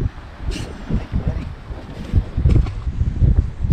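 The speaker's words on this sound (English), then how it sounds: "you can see that wind is whipping" Wind whips across a fishing boat off San Clemente Island, a loud gusting rumble battering the microphone in uneven surges, with hull and water noise underneath.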